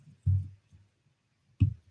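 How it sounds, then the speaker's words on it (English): Two soft, low thumps from a microphone stand being adjusted, spaced well apart and faint, with no talk over them. "There might be some microphone sound because I'm adjusting the stand"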